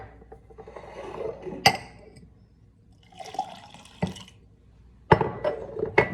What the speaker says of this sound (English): Now I'm gonna pour an equal amount of the solution A and the solution B into